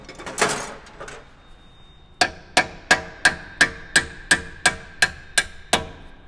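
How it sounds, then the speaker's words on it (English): A steady series of about a dozen sharp, ringing metallic hammer strikes on a Mercedes car, evenly spaced, after a few scraping clanks. "Go hammer."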